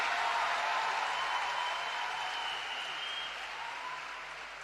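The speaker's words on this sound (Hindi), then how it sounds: "तो एक बार जोरदार तालियां देश के प्रधानमंत्री नरेंद्र मोदी जी के लिए।" Loud, sustained audience applause at a Women's Day women's-empowerment event in India, a dense wash of clapping that swells at first and then slowly fades over several seconds, with no talking over it.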